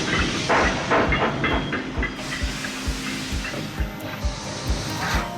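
A preserved German steam locomotive runs on a countryside excursion line, with a steady loud hiss and chuffing, rhythmic wheel clatter and clanks rolling past nearby.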